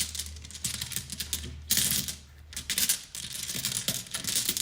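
Zodiac sign cards are shuffled by hand for a reading, giving quick, crisp riffling and flicking bursts that repeat for a few seconds, close up with no talking.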